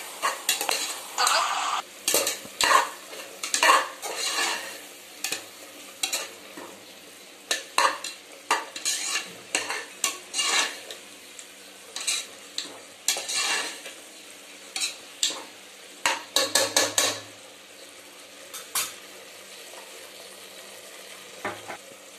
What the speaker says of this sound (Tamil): இஞ்சி பூண்டு பேஸ்ட் போடுறேன். நல்லா வதங்கட்டும்.